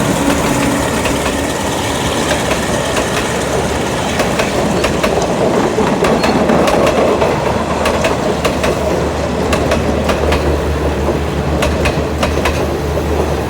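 An Alsthom 4120 diesel locomotive hauls express train 83, Bangkok to Trang, out of Ban Pong station. It gives a loud, steady engine drone with rolling wheel rumble and faint rhythmic clicks of the cars close by.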